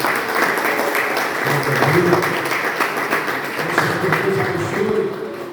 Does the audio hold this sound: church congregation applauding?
yes